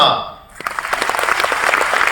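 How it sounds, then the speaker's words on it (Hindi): Audience applause at a direct selling business seminar in Guwahati, a burst of clapping swelling after a brief quiet start and continuing steadily, with a voice mixed in. "तालियां"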